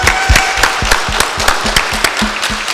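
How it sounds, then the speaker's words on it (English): A live studio audience at a radio studio launch party claps in a dense, loud burst lasting about three seconds, with a few sharper individual claps standing out in the mix. "I want y'all to give a bigger clap for yourselves."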